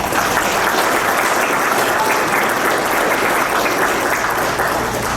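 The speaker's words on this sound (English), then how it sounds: "A round of applause." An audience at a pageant competition gives a steady, dense round of applause that stays loud and unbroken from start to finish.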